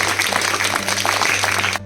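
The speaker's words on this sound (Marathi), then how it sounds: "तिच्यासाठी सर्वांनी एकदा टाळ्या वाजवायचं" Applause from a school audience at a Gandhi and Shastri Jayanti programme, a steady dense patter of clapping close by that runs for nearly two seconds and then stops abruptly.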